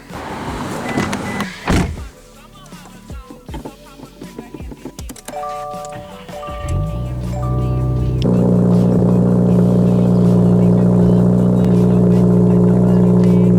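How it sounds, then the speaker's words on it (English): Doors and clicks, then a 2022+ Subaru WRX with an MBRP cat-back exhaust cranks and cold-starts, settling into a loud, steady rumbling idle from the exhaust close by. "this thing sounds crazy. I'm so happy about this. This sounds so good. Anyways, hope you guys like the little cold start"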